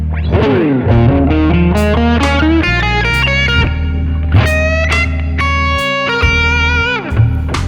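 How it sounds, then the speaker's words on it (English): Electric guitar with slight distortion plays minor pentatonic phrases in triplets over a slow blues, the notes ringing and sustaining clearly, loud and alone with no talk. "I just play the Pentatonix in triplets, but with a dynamic shift."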